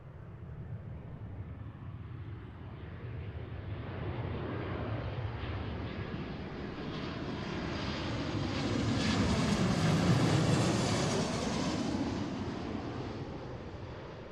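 An airliner in oneworld livery lands at Seattle airport, its engine roar swelling steadily from a distance, peaking loud and close, then easing off as it passes.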